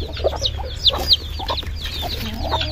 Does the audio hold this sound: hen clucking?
yes